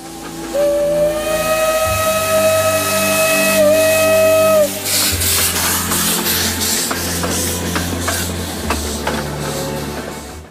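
A steam locomotive whistle blows a long, steady tone, loud, then hissing steam and chuffing engine noise follow with short bursts.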